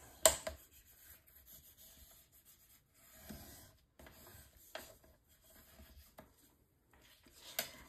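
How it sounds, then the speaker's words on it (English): A bone folder burnishes paper down over chipboard on a mini album cover, giving soft intermittent rubbing and scraping strokes, quiet and close, with a few sharper taps. "And then burnish this down with my bone folder."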